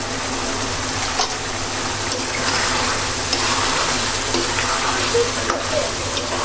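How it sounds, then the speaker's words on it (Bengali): Gravy with green chillies frying in a pan gives a loud, dense, continuous sizzle close up, with a few faint stirring clicks and no talk. "এখন আমি এটাকে একদম ভাজা ভাজা করে ফেলবো শুকিয়ে ফেলবো"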